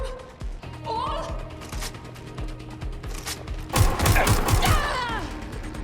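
Gunfire in Watch Dogs Legion, a steady series of sharp shots ticking along, then a louder flurry of rapid fire near the end, with voices shouting over it.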